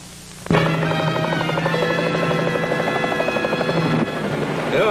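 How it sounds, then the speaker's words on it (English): A helicopter's rotor thumps and whines steadily, loud and close, starting abruptly after a brief quieter moment and holding for several seconds. "I wish I'd thought of this helicopter a long time ago."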